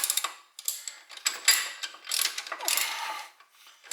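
A ratchet wrench clicks in quick bursts while tightening a bolt on the front end of a 1968 Pontiac GTO A-body during a coil spring and hub rebuild, close and crisp with brief pauses between strokes.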